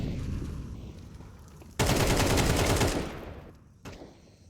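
Gunfire in a Counter-Strike-style esports video game match, with a sudden loud burst of rapid automatic shots lasting about a second, then a brief single follow-up shot, over quieter game ambience.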